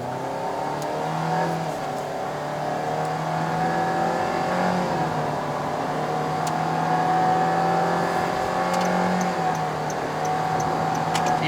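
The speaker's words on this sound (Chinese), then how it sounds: "踩下去油门。" Perodua Alza 1.5AV engine drone rising steadily in pitch as the accelerator is pressed, heard from inside the cabin, a continuous moderate hum with faint road noise and no talk.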